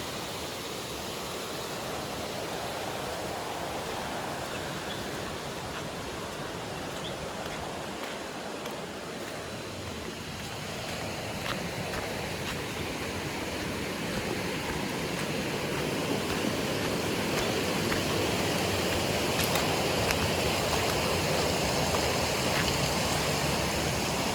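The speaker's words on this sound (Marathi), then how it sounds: "चला खाली जाऊन नदीचं पाणी बघूया" A village river swollen by heavy overnight rain rushes in a steady, loud, broadband roar that swells slightly louder over time, with no voices.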